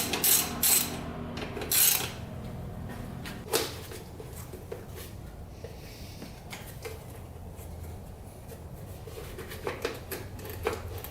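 Hand tools clatter and click while the airbox is taken off a vintage Honda CR80 motorcycle during teardown: a few sharp metallic knocks early on, then quieter ratcheting and handling noises close by.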